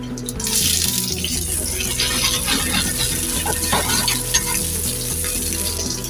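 Sliced onion and capsicum frying in a little oil for chicken jalfrezi, a loud, steady sizzle that hisses continuously from start to finish with faint stirring scrapes and no talking.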